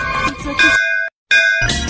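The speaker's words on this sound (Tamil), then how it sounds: "கோயில் மணிய யாரு அடிக்கிறா" A temple bell rings with clear, sustained metallic tones, struck a couple of times close by, each ring hanging briefly before fading, heard amid background activity.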